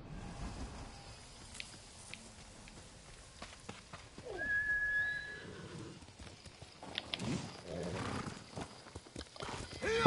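A horse whinnies clearly amid soft clip-clopping hooves and ambient sounds in a video game, the neigh rising midway through.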